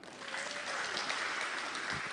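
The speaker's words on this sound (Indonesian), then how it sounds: "Boleh tepuk tangan." An audience at a parliamentary hearing breaks into steady applause, a dense wash of clapping that holds evenly throughout.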